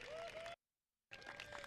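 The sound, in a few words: audience applause at groundbreaking ceremony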